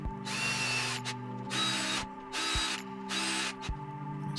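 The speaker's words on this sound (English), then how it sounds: "getting the drill out and attaching this to the chair arms there" A power drill fastens a Thrustmaster Warthog joystick mount to office chair arms, with four short, close, whining bursts separated by brief pauses and light ratcheting clicks between them.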